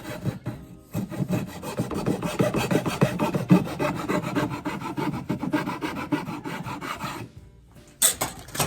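A Shinto rasp files the wood of a cigar box guitar in quick rhythmic back-and-forth strokes, close and steady for several seconds, then pauses briefly before one more stroke.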